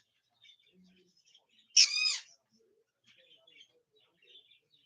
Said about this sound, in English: If anybody heard him, that was Quasar, my green cheek sun conure.